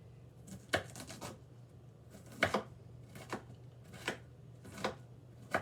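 A sharp knife rocking through vegetables on a cutting board, quiet scattered taps spaced out at an uneven pace over a low steady background hum.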